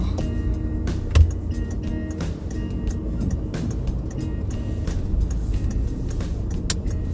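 A car pulling away from a fuel stop on a quiet road near Aachen, Germany, its steady low engine hum and road rumble droning on evenly from inside the cabin, with no voices.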